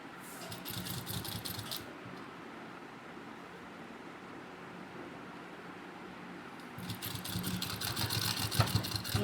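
A domestic sewing machine runs a continuous stitch along the edge of a men's underwear garment, a steady mechanical whir that eases off midway and picks back up louder near the end.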